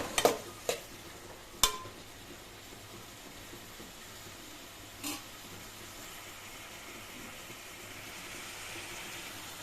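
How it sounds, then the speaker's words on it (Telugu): Egg curry masala roasting in a pan, with a few sharp spatula scrapes and clicks near the start, then a faint, steady low sizzle with no talking. "కొంచెం మధ్య మధ్యలో ఇలా తిప్పుతూ కలుపుతూ ఉండాలి లేకపోతే మాడిపోతుంది"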